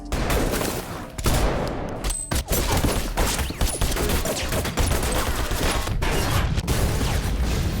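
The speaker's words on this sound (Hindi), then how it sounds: "अब जैक और चाओस के बीच फायरिंग होने लगी।" Dense movie shootout gunfire rattles on for several seconds, loud bursts of rapid shots layered with echoing impacts and heavy thuds, broken by one brief pause partway through.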